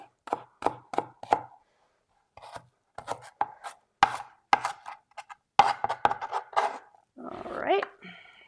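A knife finely chops red onion on a board in quick bursts of sharp, close taps, with short pauses between the runs and a faint rustle near the end.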